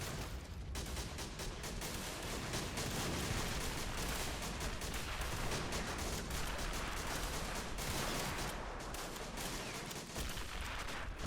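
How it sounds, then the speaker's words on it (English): Sustained heavy gunfire in a WW1 French assault on German trenches, a dense continuous crackle of rifle and machine-gun shots with no letup, loud and close throughout. "He's taking a lot of fire."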